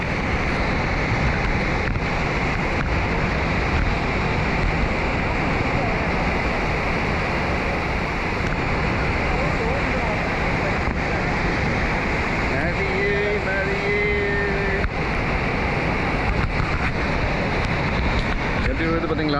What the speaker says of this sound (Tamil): தண்ணி சும்மா அப்படியே ஆர்ப்பரிச்சு கொட்டுதுங்க தண்ணி